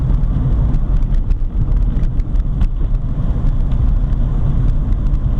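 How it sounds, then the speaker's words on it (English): A 1979 VW Rabbit with a 1.6L diesel cruises in fifth gear at low RPM, a loud, constant low rumble and shaking drone filling the cabin alongside wind noise, with no one talking. "So here we're in 5th gear, shaking quite a bit because I'm a little bit low on the RPM"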